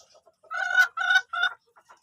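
Chickens at a small gamefowl farm give three close, clear clucking calls in quick succession, with short pauses between them and quiet surroundings.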